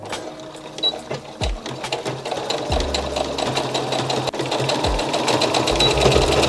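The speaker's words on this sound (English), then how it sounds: "with some leftover bias tape I'm going to fold that in half and then just stitch on top of that" A sewing machine stitching across leftover bias tape folded in half to make a small strap loop. Its needle clatters in a fast, loud, steady run with brief motor pauses and no speech.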